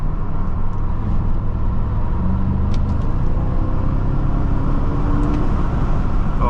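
Engine of a 2005 BMW 645Ci droning steadily at low throttle and around 3,000 rpm, heard from inside the cabin as a loud, continuous low rumble with road noise and no talk.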